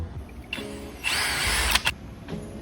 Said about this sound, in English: I can drill my other holes here and here, or whatever direction looks right